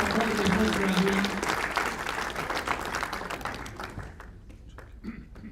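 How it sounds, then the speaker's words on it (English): Audience applause at a live event, loud and dense at first and then thinning out into scattered claps toward the end, with some voices mixed in. "So, yeah, we can applaud Mr. Essen for his work."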